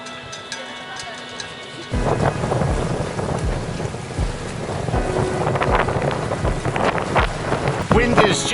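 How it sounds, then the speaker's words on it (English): A strong northerly wind blows across a bay around a sailboat, a quieter rumble giving way to loud, continuous buffeting gusts that roar against the microphone. "getting protection from this strong northerly wind"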